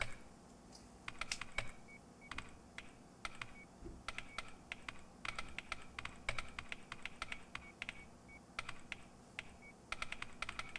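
Keyboard typing ambience from the Wii horror game Calling: irregular bursts of fast, light key clicks, soft and somewhat distant, repeating over about ten seconds with brief pauses between runs.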